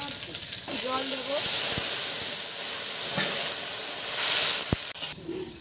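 Water hits a hot pan of frying spices and crushed green chilies, bursting into a loud, hissing sizzle that holds steady for several seconds before easing off.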